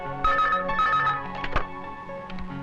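A telephone rings at a hotel reception desk, a steady melodic ringing tone that holds for a couple of seconds over faint room background.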